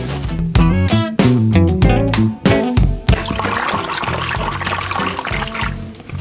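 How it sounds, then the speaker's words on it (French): Water is poured into a traditional wooden trough (madia) holding salted water for hand-made pizza dough, a close, steady splashing stream over several seconds with background music. "Et on va venir verser toute l'eau."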